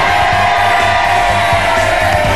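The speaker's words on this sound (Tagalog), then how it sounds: "Hindi ang sigaw ng ating studio audience Sonsoleros, Jane." A game-show studio audience cheers, whoops and shouts together, a dense, loud and continuous roar of the crowd that fills the whole moment.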